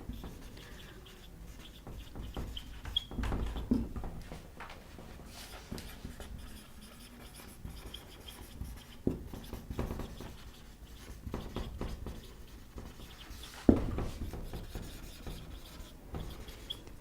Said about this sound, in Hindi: तो इनके बारे में यहीं पर हम लिख लेते हैं।